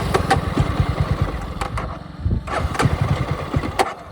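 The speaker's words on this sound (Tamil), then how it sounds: "ஸ்டார்ட் ஆகி ஆஃப் ஆயிடுது" A Jawa 42 motorcycle engine, run dry of fuel, cranks and briefly fires with uneven chugging pulses, then sputters out and dies, heard loud and close.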